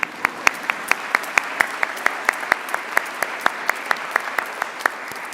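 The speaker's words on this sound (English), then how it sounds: "We can all clap." Sparse, evenly spaced claps from an audience at an award ceremony, a few hands clapping steadily and distinctly over a soft background hiss.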